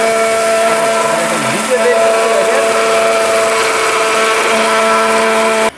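A robot blender switched on to grind cumin runs as a loud, steady motor whine, with a pitch that dips briefly before settling into a continuous high hum until it cuts off at the end.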